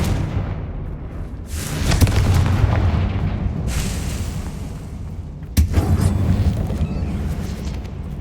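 In Hogwarts Legacy the Confringo fire spell sets off deep booming blasts, two big explosive hits with rumbling tails under a low ambient drone. No one speaks.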